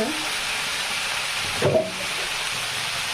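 Tilapia fish frying in a pan with garlic and eggplant, a quiet, continuous sizzle with one brief clatter of a utensil partway through.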